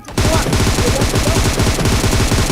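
Rapid bursts of video game gunfire, dense and loud, rattling continuously like machine-gun fire throughout, with no talk over it.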